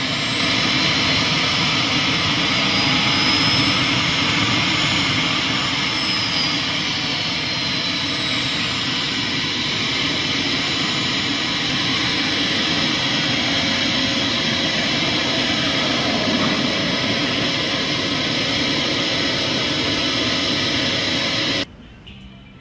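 A large scale-model jet airplane's turbine engine roars in a steady, loud, high-pitched whine that runs continuously for about twenty seconds, then cuts off abruptly near the end.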